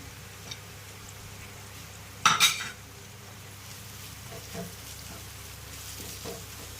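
A ground paste of garam masala, chilli and pepper powder is stirred in a frying pan for a Kerala karimeen fish dish, with a quiet sizzle and one short, sharp scraping clatter.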